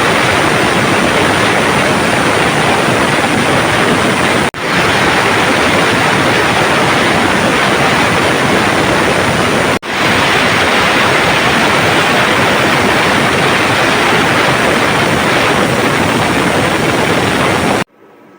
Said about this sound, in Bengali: আমি মাংসটা প্রেসার কুকারে 3টা সিটি দিয়ে নিয়েছি।